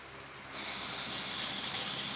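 A steady hiss of a spray bottle misting water onto a top vent, starting after a short pause and continuing evenly, close and fairly loud.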